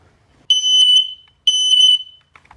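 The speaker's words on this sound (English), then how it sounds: "It's a blues smoke detector." A smoke alarm emits two loud, piercing beeps about a second apart, each held for roughly half a second.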